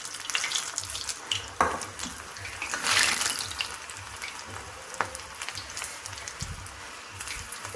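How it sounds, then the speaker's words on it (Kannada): Avarekalu bonda batter dropped into hot oil and frying, a steady close crackling sizzle with scattered louder pops and spatters throughout, no voices. "ಎಣ್ಣೆ ಕಾದ್ಮೇಲೆ ನಾನಿಲ್ಲಿ ಬೋಂಡನ ಹಾಕ್ಕೊಳ್ತಾ ಇದ್ದೀನಿ."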